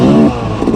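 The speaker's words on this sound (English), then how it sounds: "You can hear him revving me." A loud, close off-road race motorcycle engine revving, its rough pitched roar dipping slightly then picking back up.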